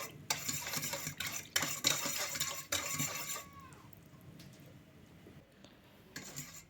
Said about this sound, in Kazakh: осы заттардың барлығын жақсылап араластырып аламыз